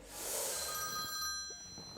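A telephone rings with a bright, continuous electronic trill. It is fairly faint and steady and fades toward the end, with no talking.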